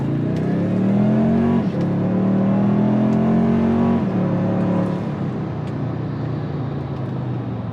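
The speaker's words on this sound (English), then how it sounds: "So you see that it has a pretty decent sound to the engine, and the acceleration is nice." The engine of a 2022-2025 Toyota Tundra 1794 CrewMax 4x4 pulls loud and close from inside the cab, revs rising through two gear shifts before settling into a steady drone.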